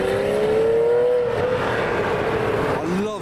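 Brown Ferrari Testarossa engine, a loud revving wail that rises, holds and fades, then a short second rev at the end, with a voice talking over it.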